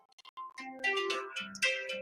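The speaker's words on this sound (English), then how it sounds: "a phone call coming in." An incoming phone call's ringtone: a short melodic electronic tune of bright stepped tones that sounds quietly and alone, starting with faint blips and then playing a fuller phrase of rising and falling notes.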